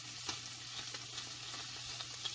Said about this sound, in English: I just want the fat to render off a bit